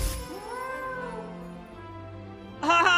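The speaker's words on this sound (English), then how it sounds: "it's a cat!" Cat meowing in the Hogwarts Legacy video game: a drawn-out wavering meow, fairly quiet, followed by a louder higher cry at the end, with game background sound underneath.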